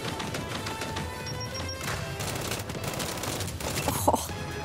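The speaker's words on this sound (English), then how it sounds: "time for a grenade. Frag out." A frag grenade explodes in the Gears 5 video game amid continuous gunfire, with crashing bursts and a sharper blast near the end, loud and dense throughout.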